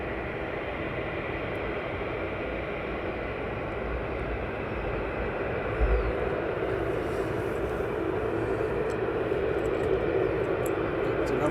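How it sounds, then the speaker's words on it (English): Aircraft at East Midlands Airport approaching, landing and taxiing, heard as a steady broad distant engine roar that holds level throughout with a slight swell midway, no talk. "Some aircraft now."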